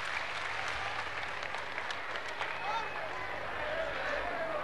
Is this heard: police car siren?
no